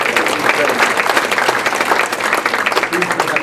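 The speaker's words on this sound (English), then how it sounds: "let's give them a round of applause" An audience at a Veterans Day 2022 ceremony applauds women from a quilting group: dense, loud, continuous clapping for the whole stretch, with a few voices mixed in.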